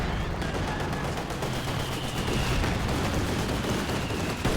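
Rapid machine gun fire from a video game rattles in a dense, continuous burst, loud and close, with overlapping shots blending into sustained crackling.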